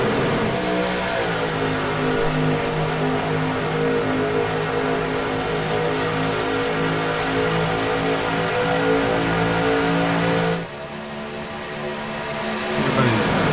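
Race truck engines drone loudly at Texas Motor Speedway in iRacing, a steady layered roar with sustained tones that drops abruptly near the end, then builds again.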